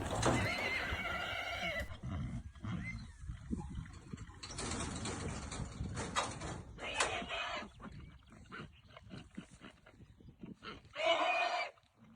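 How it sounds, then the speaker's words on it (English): New Forest ponies stir as a stallion joins a group of mares on open forest at Longdown. Loud, close whinnies open the clip, a second outburst comes near the end, and softer snorts and movement fall between. "Here's Polaris, causing a bit of a stir among the mares as he joins them on the forest at Longdown."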